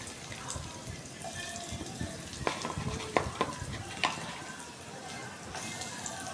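Onion and potato are stir-fried in a pot for khichuri, making a close crackling sizzle with sharp spatula scrapes and clacks at irregular moments.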